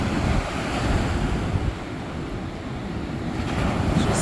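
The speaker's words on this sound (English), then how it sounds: "Look at these big old waves." Ocean waves break and wash onto an Australian beach along a coastal walk, a steady loud roar of surf with wind buffeting the microphone throughout, no voices.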